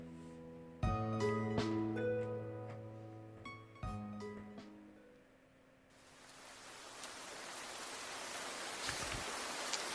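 Steady rain, a soft broadband hiss that swells in after some sparse piano-like tones fade, growing gradually and holding evenly to the end, fairly quiet with no voices.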